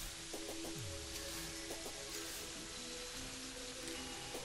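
Steady rain hiss in the Terraria video game fills the background throughout, with faint game tones and musical notes layered over it.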